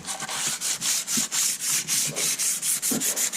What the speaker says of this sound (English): Then I just take sandpaper, and all by hand.